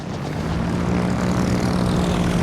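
Torpedo bomber aircraft in World of Warships, an IJN carrier's planes droning with a loud, steady propeller engine hum that swells slightly as it continues, no talk over it.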